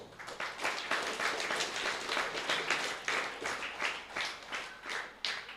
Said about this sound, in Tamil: அதுக்காகவே ஒரு நல்ல கைத்தட்டல் கொடுக்கணும்